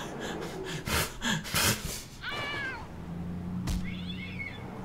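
Cat meowing in the point-and-click game Randal's Monday: two rising, wavering meows with a pause between them, over steady game background noise. Earlier there is a burst of louder, noisy game sound.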